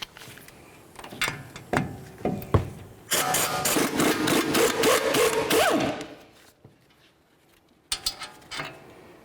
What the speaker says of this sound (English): we're going to remove all 4 of our mounting bolts